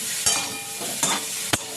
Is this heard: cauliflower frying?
yes